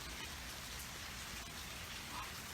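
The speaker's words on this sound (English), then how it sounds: "this is what rain feels like?" Rain falling steadily outdoors in Colorado, a dense, even hiss of drops spattering on surfaces, fairly close and constant with no voices over it.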